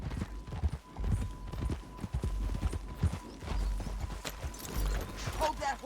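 Horse hooves in Red Dead Redemption 2 clip-clop in an uneven rhythm at moderate volume, with a faint steady tone in the background.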